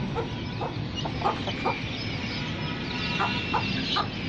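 A jet black aseel rooster of the mushka type gives several short clucks over a dense, noisy farmyard background, with no talking.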